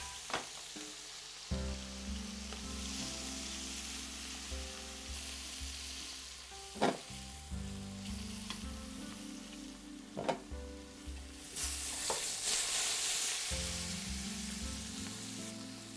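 Carrots, celery and onions fry in a pan for braised goose breast, a steady close sizzle that runs throughout, punctuated by occasional clacks of a utensil against the pan and bursts of stronger crackling, with no speech.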